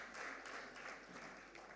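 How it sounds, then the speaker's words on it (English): Applause from an audience at an agricultural investment forum, a steady patter of many hands clapping, faint and distant throughout. "Des applaudissements. Round of applause for madame."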